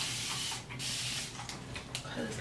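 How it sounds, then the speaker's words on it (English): Water spritzed from a spray bottle onto a loose-wave wig, a few close hissing bursts of mist with brief pauses between them. "I'm just gonna spray some water."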